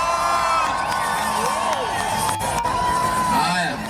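A crowd at a Samidoh appearance at a mobile spares shop in Githurai cheers and shouts continuously, with loud whoops and excited voices rising over dense babble.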